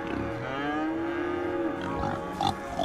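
Farm cows low with a long, drawn-out moo over a background of animal noise, followed by a few short grunts that may come from pigs, in a Cities: Skylines farm.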